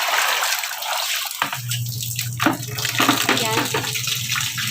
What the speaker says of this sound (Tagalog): nagsasalin ako ng tubig